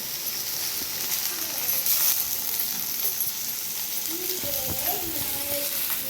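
Onions and tomatoes frying in a pan, a steady loud sizzle with occasional stirring clinks, while someone talks over it.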